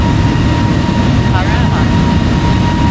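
Airliner rolling down a level runway and lifting off in Microsoft Flight Simulator, a steady loud broadband engine roar that holds constant throughout, with faint cockpit callouts beneath it.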